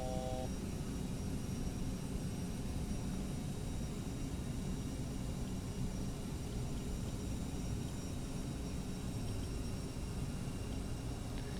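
Twin jet engines of a CRJ-700 held at climb thrust in a flight simulator game, a steady, dense roar with a broad hiss that stays constant and loud throughout, with no talk.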